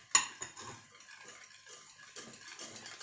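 Whisking flour into beaten eggs and sugar for flan, with a sharp clink of a whisk against the bowl at the start, then soft, uneven scraping and stirring strokes.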